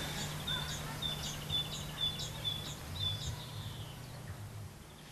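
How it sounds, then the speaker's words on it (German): A great tit sings outdoors in the countryside, a faint series of short, high repeated notes in a steady rhythmic phrase above a constant low hum. "Wie jetzt zum Beispiel die Kohlmeise."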